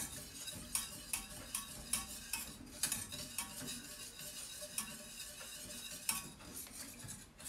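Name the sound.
stirring cream with speculoos paste in a pan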